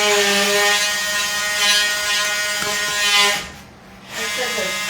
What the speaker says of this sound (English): No, I'm gonna use the multi-tool.